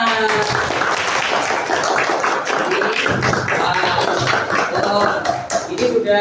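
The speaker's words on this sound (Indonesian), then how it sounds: "Tepuk tangan semua" A classroom of students claps together in an Islamic religious studies lesson, brisk and fairly loud close by, with voices and chatter mixed in under the clapping.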